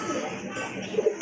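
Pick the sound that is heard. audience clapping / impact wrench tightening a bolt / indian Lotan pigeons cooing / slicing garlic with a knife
indian Lotan pigeons cooing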